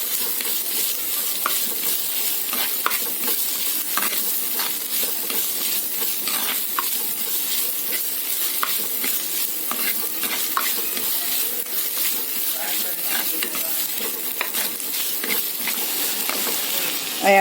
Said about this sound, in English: Here I am using the coconut shell ladle. Just saute the same.